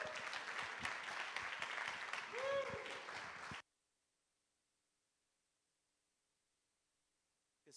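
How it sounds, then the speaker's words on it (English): A crowd claps steadily with some voices mixed in for a few seconds, then the applause cuts off into near silence. "And please, everybody, give Garrett a big round of applause."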